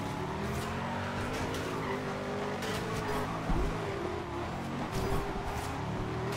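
A Maserati sedan takes on supercars in the racing game Forza Horizon 2, its engine droning steadily while the tires squeal and skid through corners, close and continuous.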